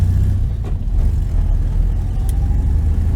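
A 1973 VW Super Beetle engine on a road drive, heard loud and close from inside the car as a steady low drone with slight rises and dips in pitch, no talk.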